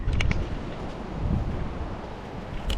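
Strong wind of 20-plus knots buffets a microphone out at sea, a steady low rumble with gusty swells and some surf-like wash, no talking.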